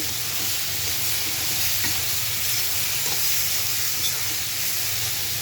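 Boiled pasta goes into a hot pan, where it sizzles and fries steadily for several seconds as it is stirred, a continuous close hiss with no voices.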